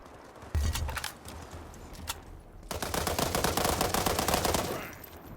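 Gunfire from the online shooter game World War 3: a short burst, then a long stretch of rapid automatic fire with sharp repeated cracks, moderately loud, with no voices over it.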